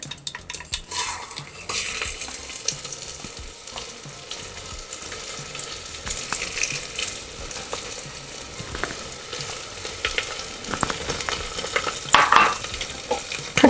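Rice is stirred and roasted in a pan with mustard seeds and cumin over low heat, making a dry, gritty rustle and soft sizzle close by, punctuated by frequent spoon scrapes and clinks against the pan.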